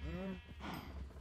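Cows mooing in a farming video game, a short low harmonic call near the start followed by blurred farm noise, with a steady rumble underneath.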